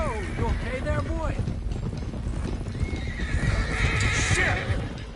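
Horses in Red Dead Redemption 2 clop along at a quick gait, with loud close hoofbeats. One stallion gives a shrill whinny and another neigh follows later, under background voices and game ambience.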